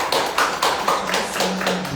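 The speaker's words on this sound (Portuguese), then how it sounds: "Recebam o pastor Vitor então com uma grande salva de palmas em nome de Jesus." Church congregation applauding to welcome a visiting pastor, a steady run of hand claps at even rhythm, fairly close and full, with no talking over it.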